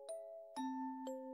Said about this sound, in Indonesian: Akhirnya bel istirahat berbunyi nyaring